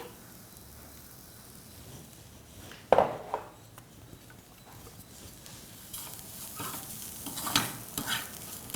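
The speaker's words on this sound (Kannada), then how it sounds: "ಇದನ್ನು ಹಾಕ್ಕೊಂಡು ಸ್ವಲ್ಪ ಹುರ್ಕೊಳ್ತಾ ಇದ್ದೀನಿ" Poppy seeds roasting in a pan with cardamom, soft dry sizzling and scraping as a spoon stirs, with one sharp clack of utensil on pan and louder rustling scrapes later.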